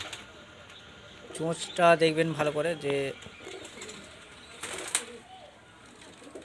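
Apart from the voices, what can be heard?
male pigeon cooing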